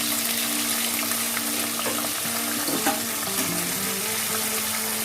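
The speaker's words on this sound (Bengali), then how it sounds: "এবার দিয়ে দেবো আমি ক্যাপসিকাম আর পেঁয়াজগুলো ফ্রাই করার জন্য।" Capsicum and onions fry in a pan with a steady sizzle and a few stirring scrapes, heard close and continuous with no talking.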